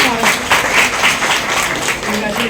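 Applause at a district-level college event in Kathua for a Gandhi Jayanti celebration, a steady wash of clapping across the hall for children, with speech mixed in.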